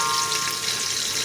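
Finely chopped onions fry in hot oil for aloo tahari, producing a dense, even hiss of sizzling that continues without a break, close and fairly loud, with no voices.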